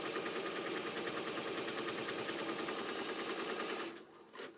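An embroidery machine sews a running stitch in a fast, steady mechanical chatter that carries loud and continuous, then stops abruptly near the end with a brief whir.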